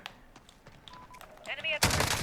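A few quick tap-fired shots from an L85A2 rifle in Call of Duty Modern Warfare, scattered bursts building to a loud dense volley near the end, with game effects and tones underneath.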